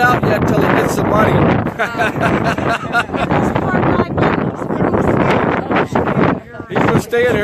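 Gusty outdoor wind batters the microphone in rough, rumbling bursts that rise and dip, while voices talk nearby through the buffeting.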